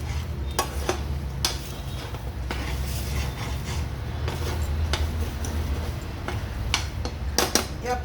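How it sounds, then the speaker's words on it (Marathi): Vegetable soup made with premix soup powder boils in a pot while being stirred: a steady bubbling hiss with scattered scraping clicks from the spoon, no voices. "आता उकळी आलेली आहे."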